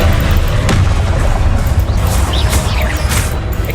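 A Confringo explosive spell blast from Hogwarts Legacy gives a loud, booming burst over a dense rumble of combat noise, with further crackling impacts following through the fight.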